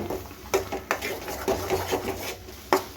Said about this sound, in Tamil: இப்போ ஒரு கடாயில் எண்ணெய் ஊற்றி அரைச்சி வச்சுருக்க மசாலாவை நல்லா பச்சை வாசனை போகிற வரைக்கும் நல்லா வதக்கணும்.